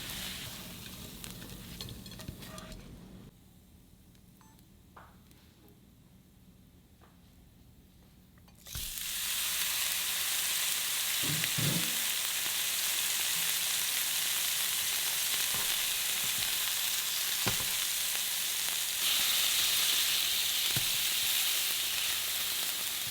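Onions and meat fry in a pan for empanada filling, a quiet stretch giving way to a loud, steady sizzle close by that holds to the end, with a few stirring knocks and no talk.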